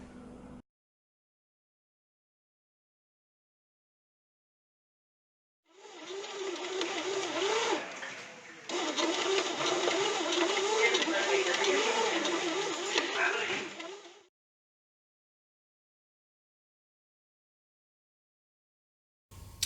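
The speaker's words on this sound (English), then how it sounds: "We're going to throw this in the bread maker." A bread maker runs with dough and yeast inside, giving a quiet mechanical whirring and churning hum that starts partway in, pauses briefly, then continues for several seconds before stopping.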